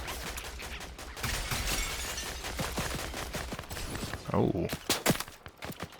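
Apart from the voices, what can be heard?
gunfire shooting at the characters in Andor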